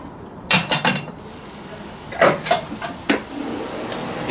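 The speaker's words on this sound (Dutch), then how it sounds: "Nog een beetje roeren." Winter stew with dark beer and flour being stirred in a Dutch oven: a few distinct scrapes and knocks of a utensil against the heavy pot, in short separated bursts over a quiet background.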